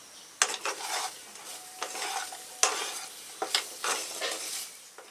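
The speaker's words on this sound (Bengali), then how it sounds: "এই সবজিগুলো ভাজার সময় গ্যাস কিন্তু অবশ্যই লো ফ্লেমে রাখতে হবে" Vegetables for an oil-free shukto fry over a low gas flame, giving a soft, steady sizzle broken by repeated spatula scrapes and light clinks against the pan. No one speaks.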